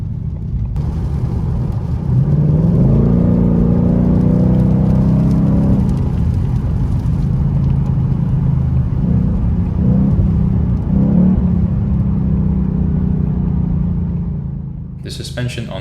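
Inside a 2020 Ford Mustang GT Premium on the road, a loud, steady low rumble of engine, tire roar and wind noise fills the cabin, with the engine note rising and falling as the car accelerates, easing near the end.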